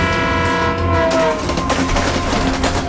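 Indian Railways train rolling slowly, its horn sounding loud and sustained near the start before fading, followed by rhythmic clickety-clack of wheels over rail joints.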